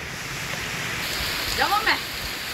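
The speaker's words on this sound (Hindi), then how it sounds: "बहुत ज़ोर की बारिश हो रही है" Heavy rain falls in Wapda Town, Lahore, as a dense, steady hiss at moderate loudness. A brief voice rises over it near the end.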